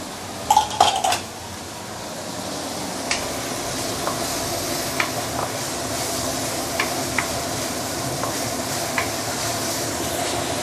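Chili paste sautéing in oil in a pan over medium-high heat, a steady hiss and sizzle broken by a few metal clanks and scraping stirs, heard close and alone.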